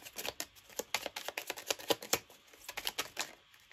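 Tarot cards shuffled and drawn for a reading, a quick rapid series of soft papery flicks and riffles, close and quiet, no voices.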